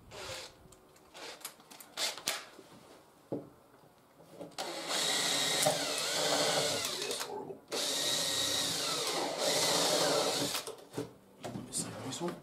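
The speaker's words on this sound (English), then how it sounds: "I think I might pre-drill those first." Power drill pre-drilling screw holes while a staircase is fitted, with two long loud whining drill runs in the middle, flanked by short knocks and handling noises and brief talk.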